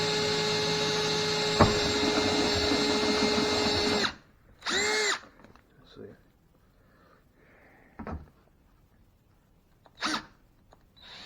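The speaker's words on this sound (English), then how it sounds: "I'm just going to center punch a mark where I'm going to drill. Kind of drill down to 9/32 here" A power drill boring a 9/32 hole in an E36 325i sedan door panel, a steady loud whine for about four seconds, followed by several short separate bursts of drilling.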